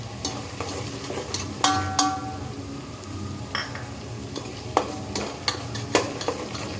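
Asafoetida, cumin and ajwain crackling in hot oil for undhiyu, a soft sizzle bed with scattered sharp pops and a few metallic clinks of a spoon against the pan.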